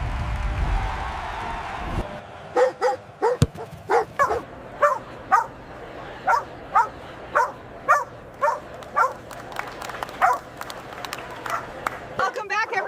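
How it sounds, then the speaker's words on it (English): A puppy barks repeatedly on green grass outdoors, a rapid run of sharp, high yips in a steady rhythm lasting several seconds, loud and close, with a brief thump and some background noise near the start. "He hasn't stopped barking since we pulled up."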